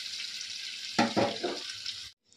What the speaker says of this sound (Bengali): তো পনিরগুলো ভাজা হয়ে গেছে হালকা করে